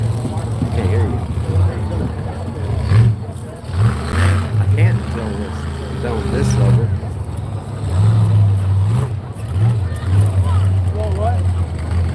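A loud, heavy monster truck engine rumbles and revs in surges during monster truck qualifying, under shouted commentary, with crowd noise around it.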